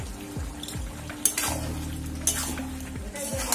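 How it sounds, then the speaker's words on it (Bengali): Mixed vegetable curry being stirred in a pan, with scraping spatula strokes and clinks of metal over a constant soft sizzle, close and fairly quiet. "এবার নেড়ে ঢেকে দিলাম।"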